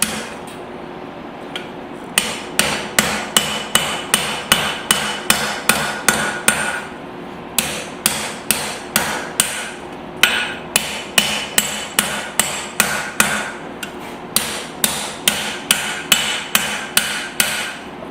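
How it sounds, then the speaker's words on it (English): A rounding hammer strikes hot steel while forging a tomahawk, ringing out in fast, even bursts of sharp metallic blows, close and loud, separated by short pauses between series. "I am using my rounding hammer to do this"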